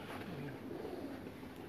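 Pigeons coo softly in a champion racing loft in Dubai, a low continuous murmur of birds close by with no clear gaps.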